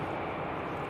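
An Airbus A350 at Manchester Airport gives a steady, broad engine roar that holds at an even level for a moment, heard alone with no voices.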